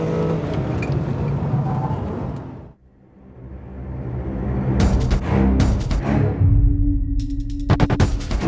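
Jaguar F-Type V8S sports car on a race track, its engine note loud and close, rising through revs with a brief lift near three seconds and sharp crackles on the overrun toward the end.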